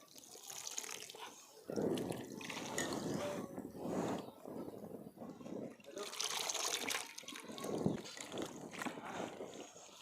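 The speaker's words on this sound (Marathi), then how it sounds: "तर दुसऱ्या पाण्याने पण धुवून घेऊ" Water splashes and sloshes in bursts as leafy greens are swished and rinsed by hand, with pauses between, close up and fairly loud.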